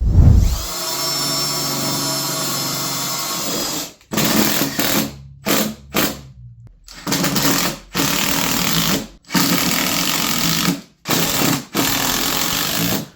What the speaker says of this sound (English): what I'm going to do is shoot some screws in it just to hold the bands on